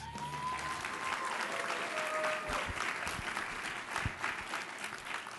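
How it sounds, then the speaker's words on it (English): Audience applause at a food policy celebration event, a steady wash of many hands clapping at moderate distance, fairly quiet, with a few louder nearby claps toward the end. "Can we get one more round of applause for the man who has reminded the world that there's an F in FDA, Kyle Diamantis?"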